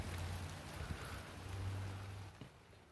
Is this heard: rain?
yes